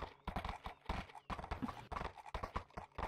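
Horse hooves clip-clop in a quick rhythm under frequent talk, with a brief whinny-like sound mixed in.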